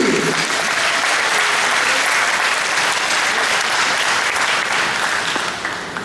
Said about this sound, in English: He deserves to give this man a big round of applause, everybody